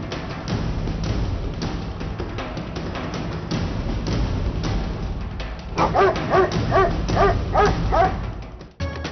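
Stray dogs in Punjab bark in a run of sharp, repeated yaps over a noisy outdoor background, getting louder and more rhythmic toward the end.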